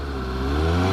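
A 2018 Suzuki GSX-S750 four-cylinder motorcycle engine revs high and steady, a loud close whirring drone with the pitch rising slightly and no talk over it.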